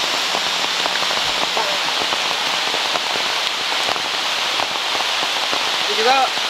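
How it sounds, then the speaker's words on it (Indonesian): Heavy rain falls in the jungle, drumming steadily and loudly on nearby surfaces with dense pattering drops, while a voice speaks briefly near the end. "Hujan terlalu kuat, guys."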